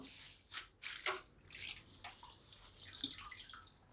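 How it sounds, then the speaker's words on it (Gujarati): Curry leaves are lifted out of water, giving quiet close drips and small splashes in an irregular patter. "આપણે આને આ રીતે પાણીમાંથી કાઢી લેવાનો"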